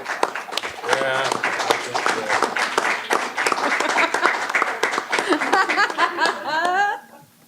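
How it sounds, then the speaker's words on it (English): Attendees at a VVCCD board meeting applaud, a dense burst of clapping mixed with chatter and light laughter that carries on steadily for several seconds before cutting off abruptly. "Everybody clapped for you."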